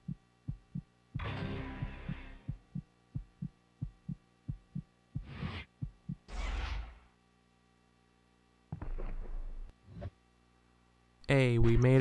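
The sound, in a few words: heartbeat sound effect in Tony Hawk's Project 8 video game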